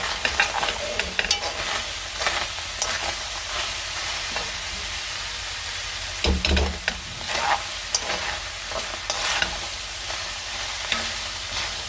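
Korean zucchini stir-fried in a pan, a steady close sizzle running throughout with frequent light scrapes and clacks of a utensil gently stirring the slices, no voices.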